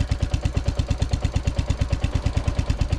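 A Royal Enfield Classic 350 motorcycle idles close by, its single-cylinder engine thumping in a steady, even low pulse with mechanical clatter layered on top, loud and alone without any voices.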